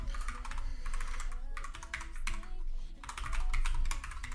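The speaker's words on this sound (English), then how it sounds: "there's quite some typing going on" Rapid, continuous typing on a computer keyboard during a coding session, with dense overlapping clicks that run steadily throughout at close range and moderate level, and no talking over it.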